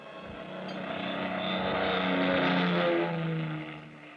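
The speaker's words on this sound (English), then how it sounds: "It was 11:30 p.m. when the big plane slowly glided down out of the clear starlit sky" A big plane descends to land at night, a smooth, droning engine roar that swells to a peak midway and then fades slightly, steady and fairly distant with no talking.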